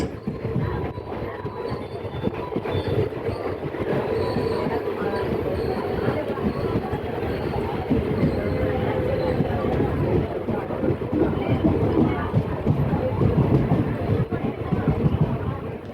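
Passenger train running steadily toward Thanjavur Junction on an unreserved Trichy to Tiruvarur service, a continuous loud rumble of wheels and carriages throughout with some faint voices mixed in.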